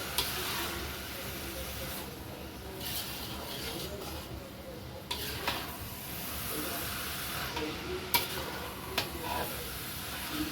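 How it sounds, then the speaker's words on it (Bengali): A sweet laddu (naru) mixture cooks in a pan, with continuous soft sizzling and hiss, scattered scrapes and taps of stirring, and faint background voices. "তৈরি হচ্ছে নাড়ু।"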